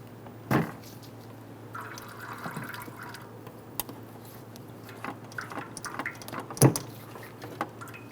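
Washer fluid drains from a detached windshield washer reservoir on a 2011-2021 Jeep Grand Cherokee into a drain can, a faint trickle and scattered drips with a couple of sharper plinks, no voices.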